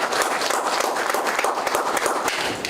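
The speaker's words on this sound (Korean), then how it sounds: "네, 좋은 말씀해 주신 박종훈 교수님께 다시 한번 큰 박수 부탁드리겠습니다" Audience at a Korean community revitalization forum applauds a speaker, professor Park Jong-hoon: loud, steady, dense clapping from a crowd filling the room, with no voices over it.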